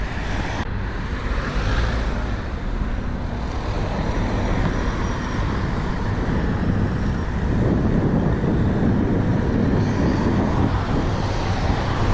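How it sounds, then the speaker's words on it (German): Road traffic passes through the streets of Dubrovnik near the old town, a steady broadband rumble of cars and buses with wind buffeting the microphone, continuous and fairly loud for about twelve seconds with no talking. "Ja, der Verkehr nimmt jetzt zu"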